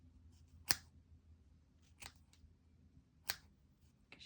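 Scissors snip through crochet yarn strands while trimming a mini crochet Santa hat decoration: four crisp, separate cuts spaced about a second apart, close and fairly quiet over a faint room hum, with no talking.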